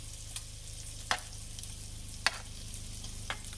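A sausage frying in an oiled pan gives a faint steady sizzle with a few sharp crackles and pops spaced about a second apart, quiet and close with no voices.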